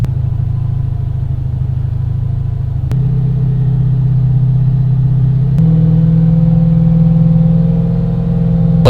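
A car engine idles steadily and loudly close by, a low droning rumble that steps up slightly in pitch twice as the revs are raised in increments.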